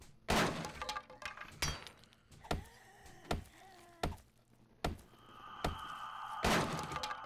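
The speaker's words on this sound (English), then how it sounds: "I'm destroying this wall for the safe" Repeated heavy thuds and crunching impacts from a wall being smashed apart in the survival game 7 Days to Die, about eight sharp hits at an uneven pace, near and fairly loud, with a high ringing tone toward the end.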